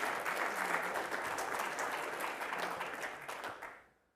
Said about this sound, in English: That deserves an applause, by the way.